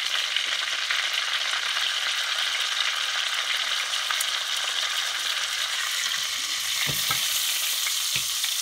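A steak's fatty, gristly edge sears in a Le Creuset grill pan, giving a steady, loud broadband sizzle throughout, with a few soft utensil clicks near the end.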